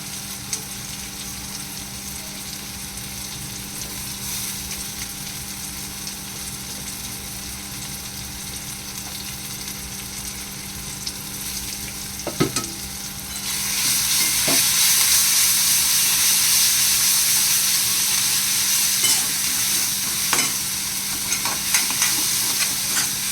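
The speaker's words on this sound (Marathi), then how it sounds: "छान असं परतून घेऊया" Onion and garlic paste sautés in a pan for a goat head masala, a continuous close sizzle with scraping stirs that grows noticeably louder and brighter about halfway through.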